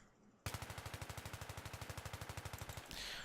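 Fully automatic M4A1 assault rifle fire in Battlefield 3, a single sustained burst of about two dozen rapid, evenly spaced shots, loud and close, ending abruptly.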